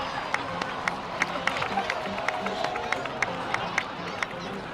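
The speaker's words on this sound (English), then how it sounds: "please give another round of applause for them" Steady crowd noise in Genshin Impact with scattered claps and cheering, evenly paced clap accents repeating throughout, heard at a moderate distance.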